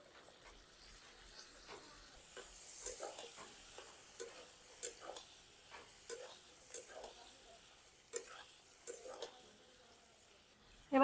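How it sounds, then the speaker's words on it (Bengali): Cut eggplant tossed in with fried potatoes in a pan gives a soft, steady sizzle with scattered stirring clicks and scrapes, faint and fairly close. "আলু ভাজা হয়ে গেছে এবার এর মধ্যে বেগুনটা দিয়ে দেবো এবারে দিয়ে দিচ্ছি কেটে রাখা বেগুনগুলো"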